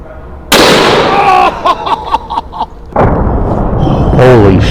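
A T-Rex rifle fires a 650 grain soft point round in one huge, booming blast. A rumbling tail follows, then voices react loudly.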